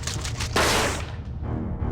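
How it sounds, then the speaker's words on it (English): A possessed soda can exploding in the GameCube game Geist: a sudden loud burst of hissing, spraying noise cuts in over an ongoing rumble, then fades within about half a second. "we're gonna move into the soda can and explode in his face"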